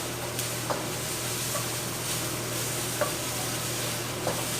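Chicken, shrimp, broccoli and snow peas stir-fry in a pan with a dense, steady sizzle, while a utensil scrapes and taps against the pan every second or so, close and with no talking.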